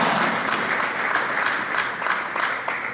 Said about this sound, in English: give him one big round of applause for all our sophomores and for Allan Hancock sophomores tonight